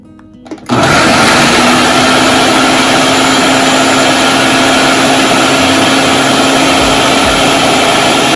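An electric chopper blends chapli kabab ingredients at home, its motor starting with a click and then whirring loud and steady without pause, alone with no talk.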